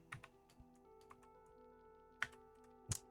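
Scattered keystrokes on a computer keyboard, a few soft clicks with uneven gaps and two sharper taps near the end, close and fairly quiet, with no talking.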